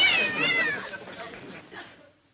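Mrs. Elkins's cat lets out a drawn-out, wavering meow that slides downward and fades, close and fairly clear, with some background noise underneath.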